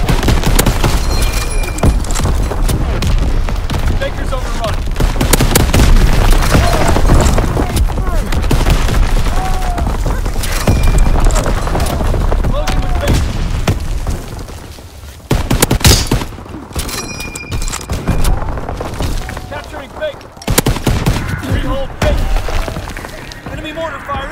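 Artillery blasts and rifle and machine-gun fire in Call of Duty WW2 multiplayer, with an M1 Garand in use: dense, continuous close gunfire and booms with brief lulls, under shouted in-game voice callouts.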